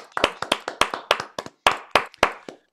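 Sparse clapping from a few people unmuted on an online call after a tribute concert: distinct, sharp claps in an irregular rhythm, near and fairly faint, with no crowd swell.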